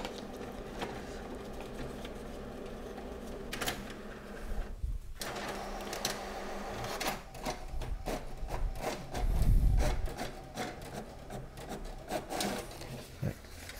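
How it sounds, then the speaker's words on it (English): An HP Deskjet 2700e-series printer scans and copies a document in black and white, producing a steady mechanical whirring and rubbing hum with a heavier low rumble of the paper feed near the end. "we scanned this document and made a copy in black and white"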